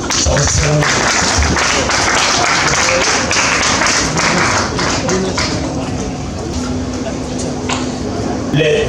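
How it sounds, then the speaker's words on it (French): Steady applause from a crowd at an art exhibition fills the whole stretch, dense and continuous, with a few scattered louder claps near the end. "Si vous pouvez applaudir, c'est pour cette œuvre."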